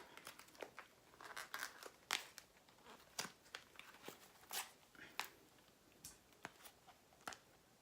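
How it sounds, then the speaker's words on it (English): Cardboard box being cut open with scissors, a dense run of sharp snips, crinkles and tearing crunches in irregular bursts, close and fairly quiet with no talking. "I have to open the box. I'm gonna have to keep the scissors around"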